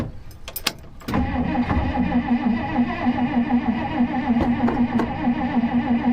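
A 1959 Plymouth engine fitted with a new carburetor cranks briefly, then catches and settles into a steady, loud, slightly lumpy idle close by, with no talking.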